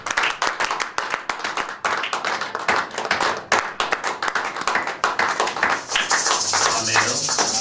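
A church congregation claps and cheers in a dense burst of many hands, with voices mixed in. It settles into a softer, steady crowd noise near the end.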